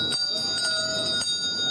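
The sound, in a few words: Salvation Army holiday hand bell ringing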